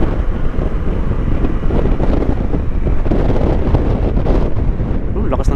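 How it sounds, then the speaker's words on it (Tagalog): Strong wind buffeting the microphone on a beach at Malico, San Nicolas, Pangasinan, a loud continuous rumbling roar with gusty swells and a faint wash of surf beneath. "Lakas ng hangin."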